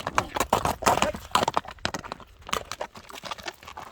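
A horse led in by hand, hooves clip-clopping in an uneven run of close, sharp strikes with brief pauses, a faint voice in the background.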